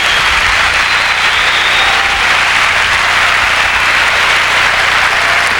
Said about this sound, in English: before you applaud that too much